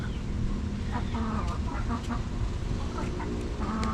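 Domestic chickens cluck in short, repeated bursts close by, several birds overlapping against a steady rustling farmyard background.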